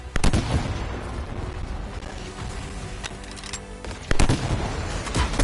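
Turret gunfire in the Anthem video game crackles in sharp, loud bursts, with mechanical clanking and rattling between the shots.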